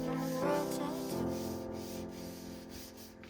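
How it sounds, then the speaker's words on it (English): Fine 1000-grit sandpaper rubs steadily over the bodywork of a crashed Skoda Fabia vRS, a soft close hiss of repeated strokes, with music playing underneath. "I'm now basically going over the entire thing with 1000 grit to get it nice and smooth"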